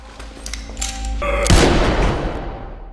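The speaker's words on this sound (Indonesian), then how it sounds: "Meskipun Joel berhasil menembak" A single loud, booming gunshot fired by Joel in The Last of Us series, landing midway after a low rumbling buildup and then fading out in a long reverberant tail.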